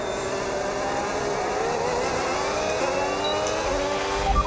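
An F1 race car engine in the F1 26 video game, a loud sustained high-revving whine climbing through the gears while overtaking, steady and close throughout.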